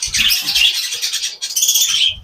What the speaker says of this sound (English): we are next to the birds